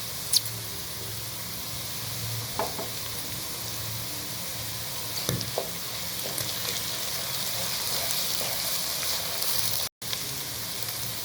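Ginger garlic paste frying in a pan for vegetable khichuri gives a soft, steady sizzle with occasional faint clicks and a brief dropout near the end, no talking.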